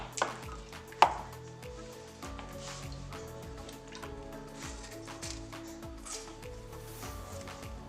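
A fresh coconut being cut up in a kitchen, with two sharp knocks near the start, then softer scraping and cutting sounds over a low steady background.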